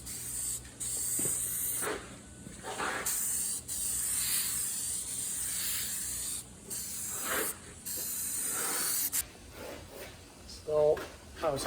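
Short aerosol bursts of guide coat spray over a primed car body during rust repair, several hissing puffs separated by pauses, close and moderately loud, with a rattle and brief handling noises near the end.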